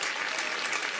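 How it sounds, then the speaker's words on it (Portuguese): A live audience claps steadily at a Portuguese music show, the dense applause filling the whole moment without pause or voices. "uma salva de palmas para o senhor Fernando Rocha"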